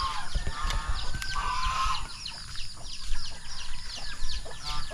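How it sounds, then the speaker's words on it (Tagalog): A hen on a small farm clucks in soft, repeated calls, close by, against a busy outdoor background of other birds and a faint hum. "ayan ang isang manok isang inahing manok namin"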